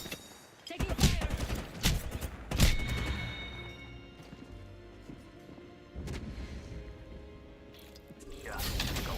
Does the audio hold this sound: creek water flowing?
no